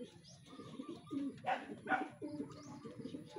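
Several racing pigeons coo softly and repeatedly nearby, their low throaty calls overlapping in a gentle, continuous chorus.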